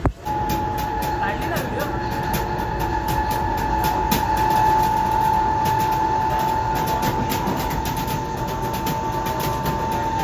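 A fast local train rumbling along steadily with rail noise and a faint sustained tone, continuous throughout, with some voices in the carriage.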